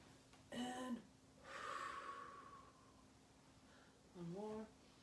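Slow, deep breaths drawn in during an aikido breathing exercise, with a few audible inhales separated by quiet pauses, heard close and fairly faint, with a voice guiding the breathing.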